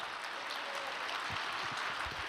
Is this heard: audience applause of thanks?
yes